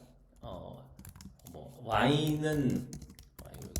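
Typing on a computer keyboard while writing out a probability formula, with quick light key clicks scattered throughout as someone talks over them in Korean.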